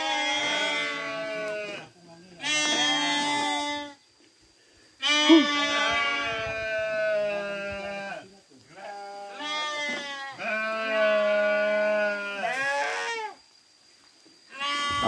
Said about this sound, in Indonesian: Alhamdulillah kita disambut dengan yel-yel dari domba ya dan sapi